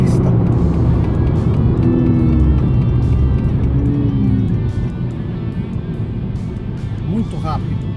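Honda Accord Touring sedan driving fast on a test track in fourth gear, with a steady engine and road roar throughout and someone talking over it.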